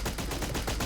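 Rapid gunfire in the video game Blast Brigade, a shotgun firing in a fast burst of several loud, close blasts in quick succession with no talking.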